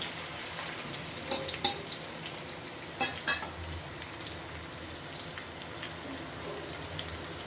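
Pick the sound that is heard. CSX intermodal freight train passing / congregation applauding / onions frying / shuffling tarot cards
onions frying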